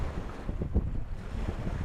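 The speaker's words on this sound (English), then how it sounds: "these are pushing 2-foot waves here" Steady wind roar and choppy two-foot waves on a large Minnesota lake, a dense continuous rumble with buffeting wind noise on the microphone and no voices.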